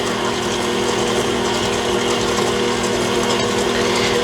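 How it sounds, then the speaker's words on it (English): A mixer beater turns through pumpkin chocolate chip bread batter, giving a loud, steady mechanical whir with a continuous motor hum and rhythmic gear-like rattling, alone without talking. "And the beater goes round and round and round."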